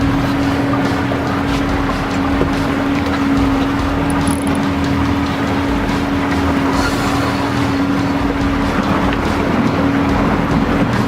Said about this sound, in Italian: Stiamo accelerando con il motore perché potrebbe essere una grande cernia.